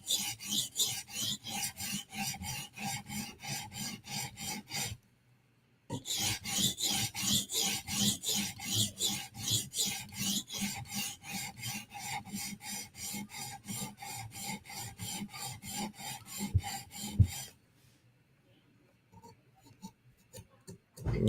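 Steel blade stroked on a small double-sided sharpening stone, a rapid run of rasping strokes that pauses briefly, resumes for a long steady stretch, then stops into near quiet with a few faint scrapes near the end.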